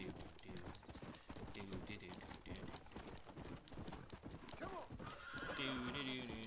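Rapid hoofbeats of a galloping horse in Red Dead Redemption with a loud neigh near the end, close and energetic over a busy game soundtrack.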